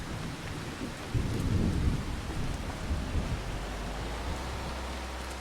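Heavy rain hisses steadily in a video game while low thunder rolls close by, with a strong rumble early on that settles back into a constant downpour.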